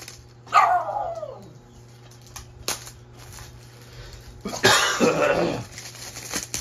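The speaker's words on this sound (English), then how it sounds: "Sorry, I got a cough right there because I'm sick" A sick person coughs close to the microphone, with two separate harsh coughs a few seconds apart and a shorter throat-clearing catch between them, set against a low steady hum.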